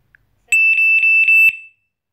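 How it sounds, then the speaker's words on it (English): A wireless alarm siren gives four short, loud, high-pitched beeps in an even rhythm, each about a quarter second apart, alone in an otherwise quiet room. "We heard four beeps, still one LED on."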